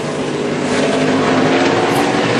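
Stock cars at Watkins Glen during the 2011 NASCAR race roar steadily at full throttle, a dense, loud engine drone that holds without a break, with no talk over it.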